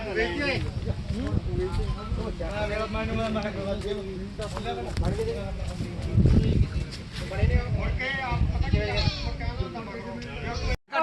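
A milk goat bleats repeatedly in wavering cries at a goat market, with other animals and voices mixed in close by, continuous and fairly loud throughout.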